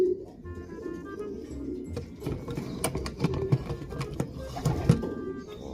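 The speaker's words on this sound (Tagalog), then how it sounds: "Ganda ng size ng mga ibon, healthy." Racing pigeons, young offspring of a Batenburg line, coo softly in a loft, their low, rolling calls overlapping steadily throughout with a few sharper clicks and rustles nearby.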